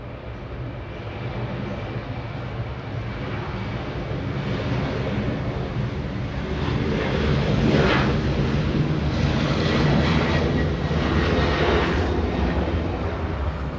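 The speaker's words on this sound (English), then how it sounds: "Delta 2647 flying to Detroit, Michigan, a 737-900." A Delta Boeing 737-900 jet bound for Detroit at Los Angeles International Airport, a sustained broadband roar of jet engines that swells slightly in the middle and holds steady to the end, with no voices.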